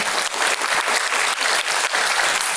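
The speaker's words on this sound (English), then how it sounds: "you don't have to keep clapping after every sentence" Sustained audience applause fills the room at an evening panel on reporting about China from exile, dense and steady clapping throughout with only brief dips.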